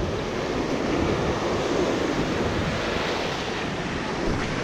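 Large ocean waves surge and wash continuously around a boat out at sea while fishing for brassy trevally, a broad roaring wash with heavy wind buffeting the microphone and no talk.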